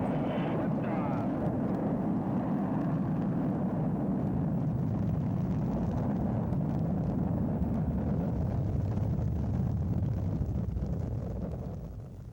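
Viking spacecraft rocket at liftoff, a steady, loud broadband roar and rumble that holds strong throughout before tapering slightly at the end, with no voices over it.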